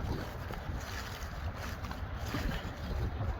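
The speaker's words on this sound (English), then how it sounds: "It's really nice and windy now." Steady wind blows across an open field where oat straw is being turned with a twin rotor rake, a constant broadband rush with microphone buffeting, no speech.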